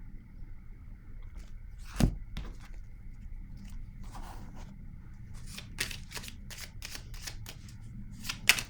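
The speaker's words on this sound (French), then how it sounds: "Je vais piger une carte ici." Quiet, soft papery shuffles and flicks as a card is drawn from a deck, with a few crisp snaps near the end in an otherwise hushed room.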